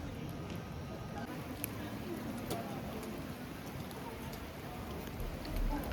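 Rain falls on a street in Ljubljana, Slovenia, a steady close hiss of patter with scattered sharper drips throughout.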